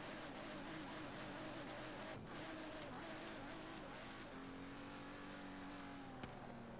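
A 100-horsepower, 100-kilogram modded car driving in Forza Horizon 3, its engine a steady, continuous drone with a shift in pitch partway through, accompanied by game music and ambient noise.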